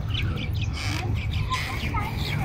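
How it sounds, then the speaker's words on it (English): Doves along the Doha Corniche give repeated chirps and short calls over a steady outdoor background murmur, close and moderately loud. "record these birds, these doves."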